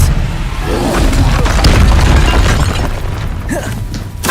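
Casting Expelliarmus in Hogwarts Legacy combat brings a loud burst of booming, crackling impact noise that swells in the middle and fades, then another sharp hit lands near the end.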